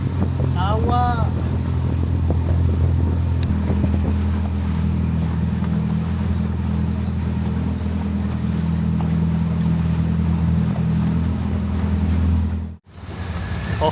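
Droning engine of a small tour boat on a Bangkok canal, a loud low hum with steady harmonic throb running throughout, water splashing and a brief voice near the start, then a sudden dropout near the end.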